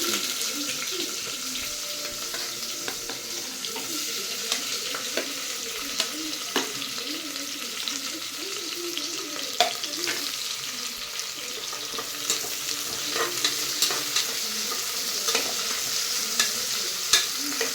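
Onions sizzle steadily in hot oil in a pan for donne biryani while a spoon stirs them with occasional scrapes and clacks. A continuous close frying hiss runs throughout with no talking.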